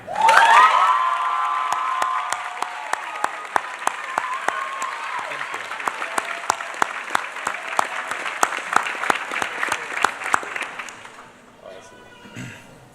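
Crowd applause and cheering at a high school graduation ceremony, an initial loud whoop giving way to many sharp individual claps that carry on steadily before thinning out near the end.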